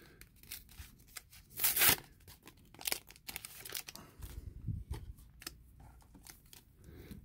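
A Magic the Gathering Core 2021 booster pack is torn and crinkled open up close, with a loud rip near the start, then scattered crisp crackles and rustles of foil wrapper fading out.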